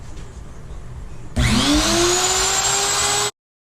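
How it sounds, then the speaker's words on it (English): Wood router cutting into a wine bottle stand, a loud steady high whine that starts abruptly and holds with a slowly rising pitch for about two seconds before cutting off, with quieter workshop noise before it. "This time with the router, we're going to put them down because it kicks out a little bit of stuff."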